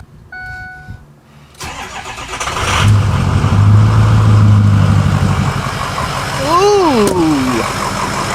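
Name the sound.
Ford 6.0 Powerstroke diesel truck engine cold start idling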